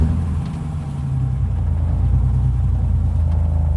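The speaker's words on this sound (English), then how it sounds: "this exhaust sounds really nice" BMW E30 with an M20 engine and stainless exhaust, lowered on air suspension, droning steadily at low pitch while driving, a continuous close rumble with slight swells, no talk.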